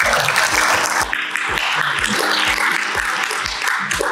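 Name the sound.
audience applause for an award recipient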